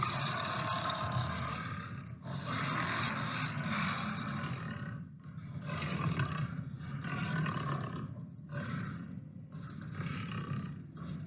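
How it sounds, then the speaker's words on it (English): A lion roars loudly and repeatedly, each long, rasping bellow separated by short pauses, close and unaccompanied by speech. "The lion roared as loud as he could to call for"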